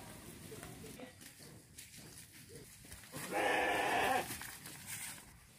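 A sheep gives one loud, drawn-out bleat lasting about a second, with people talking quietly and faint farmyard background noise around it.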